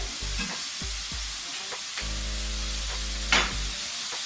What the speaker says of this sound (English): Alrighty, butter's going in.